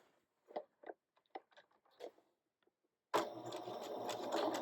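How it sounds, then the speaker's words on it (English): After a few faint handling clicks, a sewing machine starts sewing the last side of a fabric egg, running as a steady, close mechanical whir to the end. "So now I'm going to fold these 3 that are sewn out of the way and sew that last side."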